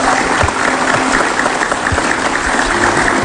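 Studio audience applause at a TV talk show, dense continuous clapping from a large crowd, loud and steady throughout.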